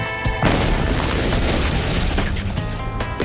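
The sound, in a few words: C4 plastic explosive detonation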